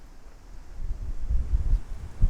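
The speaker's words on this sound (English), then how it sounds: "It's very windy today, so I hope the audio is okay." Wind buffeting a microphone outdoors on an allotment, a low rumbling roar that swells and gusts louder toward the end, with no talking.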